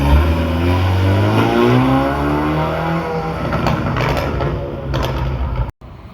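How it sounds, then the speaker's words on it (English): BMW F30 335i fitted with a Rev9 exhaust and twin tips with carbon fiber covers revs loudly and up close, its pitch climbing and holding as a steady throaty roar before cutting off abruptly near the end. "The vehicle now has the Rev9 exhaust,"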